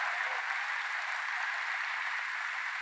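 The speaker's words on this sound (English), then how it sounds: "Let's give them another round of applause for their leadership." An audience at a political event on gun violence applauding, an even, sustained rush of clapping from a sizable crowd, steady and somewhat distant with no voices over it.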